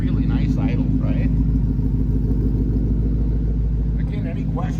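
A 2012 Ford Mustang GT coupe's V8 idles with a low, even burble from its dual exhaust, close and continuous, as someone briefly talks over it.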